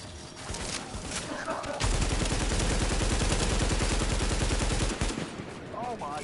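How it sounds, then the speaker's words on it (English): Rapid automatic gunfire from The Division rattles loud and continuous for about three seconds, framed by shorter bursts and shots, with faint game sounds in the gaps. "He keeps shooting people."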